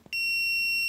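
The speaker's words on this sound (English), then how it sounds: "you can have a beep. You hear the beep." A Fluke 287 multimeter gives a single loud, steady, high-pitched continuity beep that sounds alone and holds without a break.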